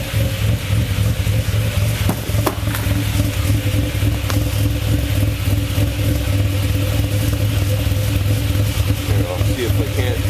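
A car engine runs just after a cold start, with a rough, steady rumble close by and a brief sharp knock near the start, continuing without a clear climb in revs.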